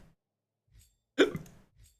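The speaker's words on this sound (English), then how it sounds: "Ooh, hiccups." A single sharp hiccup bursts out loud and close, flanked by faint soft breaths in an otherwise quiet room.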